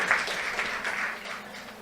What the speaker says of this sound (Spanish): Tienen un aplauso.